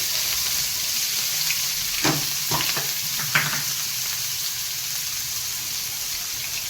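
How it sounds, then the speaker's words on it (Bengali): Onion dropped into hot oil already tempered with spices and garlic sizzles in the pan, a steady frying hiss with a few clattering stirs and knocks near the middle, close and with no talking. "আমার তেল গরমই হয়ে গেছে ফোড়ন দিলাম আর এই রসুনটা তেলের উপরে দিয়ে তেলটা ভালো বেরোবে এবার আমি পেঁয়াজটা দিয়ে দেবো"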